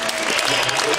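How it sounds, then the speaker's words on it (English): A jazz concert audience applauds in a dense, even wash of clapping, close and fairly loud through the brief moment. "A round of applause."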